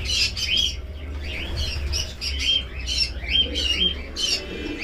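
Racing pigeons fill a loft with repeated chirps, coos and squawks, with occasional wing flaps, close and continuous over a low background rumble.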